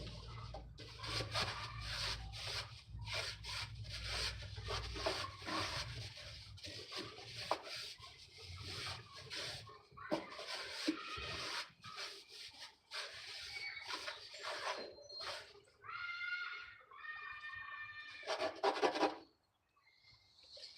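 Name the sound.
scrubbing a dirty VR6 engine pan clean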